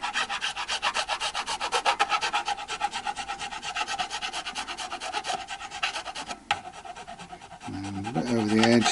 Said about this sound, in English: once I've done it with the hefty grade file, then we can do it with a finer one